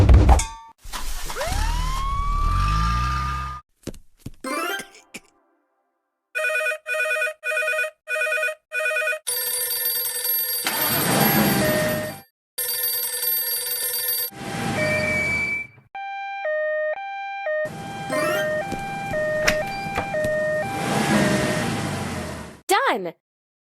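Electronic emergency vehicle siren tones from a kids' car wash and fire truck learning game, sounding in repeated bursts of wailing and ringing beeps with short gaps between them, alongside other cartoonish game effects.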